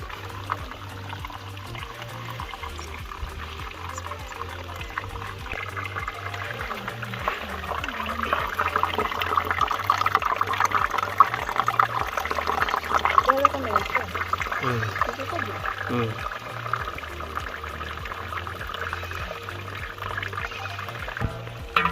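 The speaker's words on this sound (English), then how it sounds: "I'm going to pour this water first." Dirty water from village salt mining is poured out with intermittent splashing and trickling that swells in the middle, over a low repeating hum and faint background voices.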